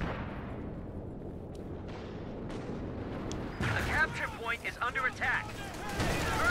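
A tank cannon shot in the World War II strategy game Company of Heroes 2, a heavy boom followed by rumbling battle noise and scattered impacts, with a commentator talking over much of it.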